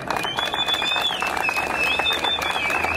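A crowd applauds at a labor protest rally, steady clapping mixed with loud wavering whistles and crowd noise throughout.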